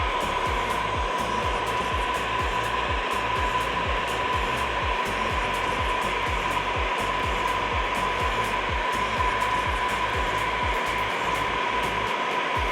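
Heat gun blowing steadily while post-heating vinyl wrap pressed into a deep recess on a van, a loud continuous airy roar with rapid faint clicking pulses running through it, no talking.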